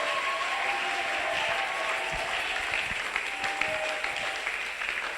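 A dense, steady wash of audience applause fills a hall, many hands clapping together at an even level, close and sustained with no voices standing out.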